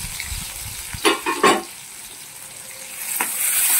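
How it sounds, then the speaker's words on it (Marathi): Samosa filling of cumin, onion, half a tomato and peanuts being sautéed in a pan, a soft steady sizzle with a few louder stirring scrapes near the start and one near the end. "हे पूर्ण सारण आपल्याला परतून घ्यायचं आहे."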